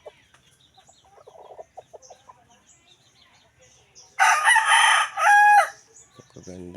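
A rooster crows loudly and close by, a long harsh call partway through, with faint clucking and soft rustling before and after.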